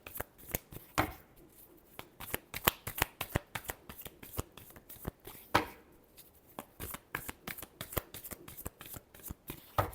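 Tarot cards are shuffled by hand in a steady run of crisp riffling slaps and flutters, close and clear in a quiet room, with no talk over them.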